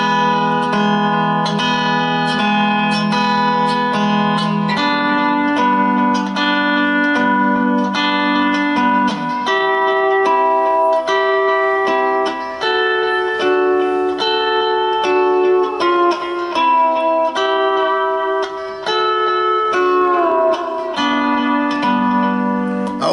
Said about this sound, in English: if you hear me say I'm skip stringing, what I'm usually doing is going from 2 to 3